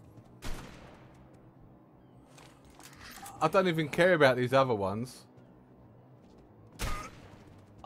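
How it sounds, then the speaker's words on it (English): Two distant, sharp gunshot bangs crack out in the Remnant RP video game, spaced several seconds apart, with someone talking between them. "I heard gunshot outside."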